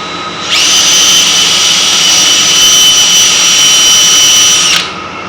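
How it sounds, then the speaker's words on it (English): A power drill drilling wood runs steadily for about four seconds, a loud high-pitched whine that starts and stops abruptly, with no talking. "I'm going to drill these two together"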